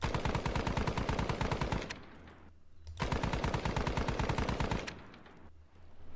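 Rifle gunfire in the Squad Battles wargame video game: two long, rapid volleys of sharp shots, each lasting about two seconds, separated by a brief lull, close and loud.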